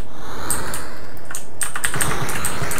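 Spacebar on a Commodore 64 keyboard tapped to fire rockets in After Burner: a few crisp plastic key clicks, a short burst near the start and a quicker cluster after a brief pause, close up and loud.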